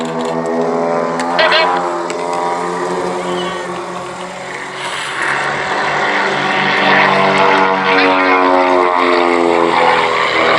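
A propeller-driven aircraft performs a quarter clover manoeuvre at the East Kirkby airshow in Lincolnshire, its engine droning loudly and steadily with a shifting pitch as it climbs and turns. A commentator's voice is heard alongside it.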